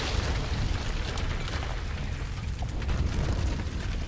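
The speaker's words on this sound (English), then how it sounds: "Is that an explodey barrel?" An explosive barrel blowing up in the Tomb Raider video game gives a sustained, heavy rumbling blast that stays loud and dense for several seconds with no talking.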